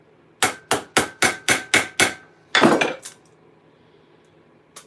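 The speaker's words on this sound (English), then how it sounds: "Flat side of the hammer on the flat side of the rivet." Flat face of a hammer striking a rivet on a metal half gauntlet, six sharp evenly spaced ringing blows, then a heavier scraping clank and a faint final tap, close and loud without speech.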